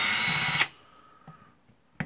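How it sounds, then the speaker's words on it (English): A Bosch GSR 18V Li cordless drill runs with a loud, steady whine for about half a second, then stops, followed by faint clicks and a brief clatter of the screws and housing nearby. "so I'm back with a cordless drill"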